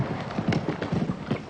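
A horse's hooves clop in a quick rhythmic gallop during an Athens 2004 show jumping round, moderately close and steady, with faint background noise.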